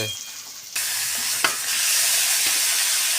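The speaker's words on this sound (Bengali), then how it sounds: "এটা হচ্ছে চিকেন, আলু ভাজি জন্য পেঁয়াজটা ভেজে নেওয়া হচ্ছে।" Onions frying for a Bengali chicken and potato dish, a loud steady sizzle that jumps up after a quiet start and holds strong, with a few brief stirring knocks in the pan.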